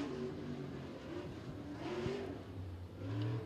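An Iron Man modified race car on its qualifying lap at 411 Motor Speedway, its engine rising and falling in pitch as it revs through the turns, heard fairly faint and from a distance.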